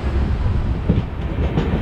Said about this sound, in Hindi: ट्रेन जर्नी हो रही है